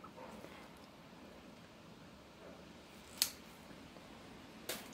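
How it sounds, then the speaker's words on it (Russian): Pruning scissors snip fig bonsai branches: two sharp, quiet clicks stand out over a soft, steady background hiss, with no speech. "Я обрезаю так с пенечками, с небольшими"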